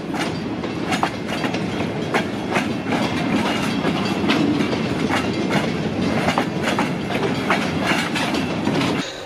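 A train with its locomotive rolls past close by. A loud, steady rumble carries rhythmic clickety-clack from the wheels on the rails throughout, and no one speaks.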